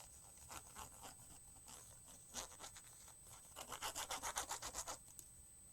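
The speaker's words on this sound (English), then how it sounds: "I'm going to rub this really hard" Paper is rubbed down hard onto a card, making quiet scattered scuffs and then a faster run of about ten rhythmic rubbing strokes near the end.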